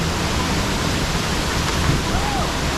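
A waterfall at the bottom of a long hot hike sends out a loud, steady, unbroken rush of falling water that fills the whole moment.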